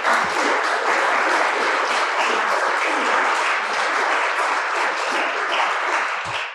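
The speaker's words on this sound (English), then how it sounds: "Please, round of applause." Audience applause at a panel event marking 50 years of Section 203 voting language access; dense, steady clapping from a full room, loud and sustained throughout without a break.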